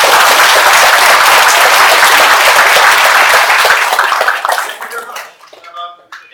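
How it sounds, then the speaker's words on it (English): An audience at a PostgreSQL conference in Russia gives loud, dense applause that holds steady, then fades away as a speaker begins to talk. "So please, a round of applause for Magnus."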